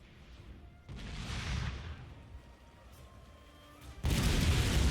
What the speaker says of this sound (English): is anybody else hearing these guys going off like gunshots?